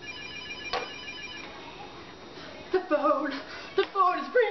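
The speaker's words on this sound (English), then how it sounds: "The phone is ringing!" A phone rings in short electronic bursts, a few chirping tones near the end, with faint background murmur throughout.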